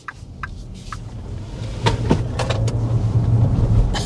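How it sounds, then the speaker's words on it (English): A dual-motor Xpeng G9 Performance electric SUV launches under hard acceleration from inside the cabin, a low rising electric drive hum building over a few seconds, with scattered faint clicks and creaks and no talking. "There's a punch of the accelerator."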